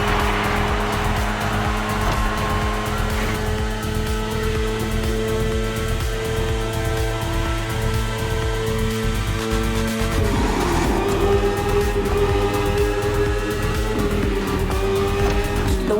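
A BMW S1000RR superbike's engine drones steadily in The Crew Motorfest racing game, a loud continuous high-revving tone that shifts pitch partway through, heard alone without talk.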